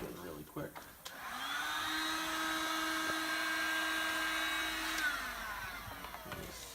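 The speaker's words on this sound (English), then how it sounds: "blast it with the heat gun really quick." A heat gun blows hot air onto a Silverado/Sierra truck's trim, a steady whooshing whine that starts after a soft clunk, holds evenly for about four seconds, then spins down, with faint handling noises around it.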